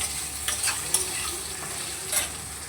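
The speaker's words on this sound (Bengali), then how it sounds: "লবণ আর একটু হলুদ গুঁড়ো দিয়ে আলুটাকে একটু হালকা করে নেড়ে নেব" Diced potatoes seasoned with salt and turmeric stirred in a pan, a low continuous sizzle with a few soft scraping strokes, quiet and without speech.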